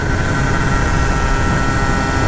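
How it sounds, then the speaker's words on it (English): A 70cc bike fitted with a Polini Evolution kit drones at high revs while riding at speed, a loud steady engine buzz with heavy wind rush throughout. "We don't have enough rev in this bike."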